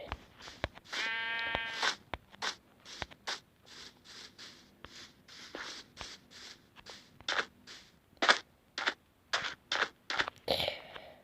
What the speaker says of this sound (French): Ah, là-bas, il y a du mouton